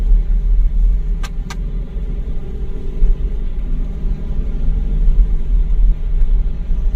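Car engine rumbling steadily from inside the cabin as it pulls away after a turn during a driving lesson, low and continuous with a brief double chirp near the start and no speech.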